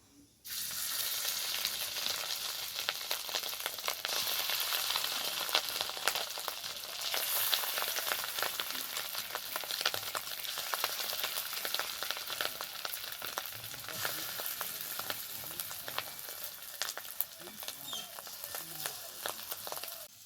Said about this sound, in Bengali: এবার বাকি বড়াগুলো ওই একইভাবেই ভেজে নেব।